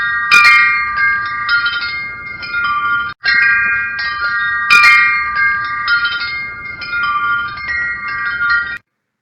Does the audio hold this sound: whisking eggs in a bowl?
no